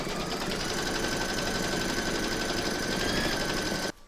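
Embroidery machine stitching an outline round through coaster batting in a hoop, a steady fast mechanical whir with rapid needle rattle, continuous and close, stopping abruptly at the end.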